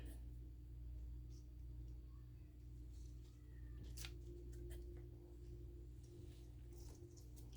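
Scissors snipping scallions grown in a hydroponic AeroGarden, a few quiet sharp clips close by over a steady low hum, with no talking.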